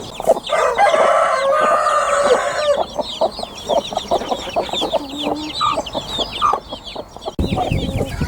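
Hens at a suburban allotment cluck in a steady, busy run of short calls, close and fairly loud, with a few fainter bird calls around them and no talking.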